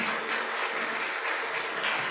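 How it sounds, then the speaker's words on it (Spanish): A church crowd in Ecuador applauds the arriving children with dense, sustained clapping. It stays steady and fairly close throughout, with no speech over it. "Un aplauso para ellos, por favor,"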